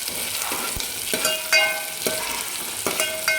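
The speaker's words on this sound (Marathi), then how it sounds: "तो कांदा टाकते आणि चांगला त्याला गुलाबी कलरवर आपल्याला परतून घ्यायचा आहे." Chopped onion frying in a pan while being stirred, with steady close sizzling broken by repeated scraping strokes of a spoon against the pan, no voices.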